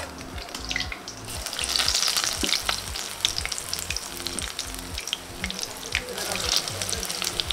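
Vada being fried a second time in hot oil until crisp and golden, a loud dense sizzle and bubbling that runs throughout, with occasional clinks from stirring.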